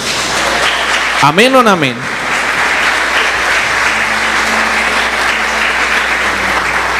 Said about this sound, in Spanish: ¿Cuánto le damos ese fuerte aplauso, iglesia?